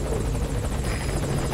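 A helicopter arriving in the video game Metal Gear Solid 5: Ground Zeroes, its steady rotor thump and engine roar filling the clip, loud and close, with no voices.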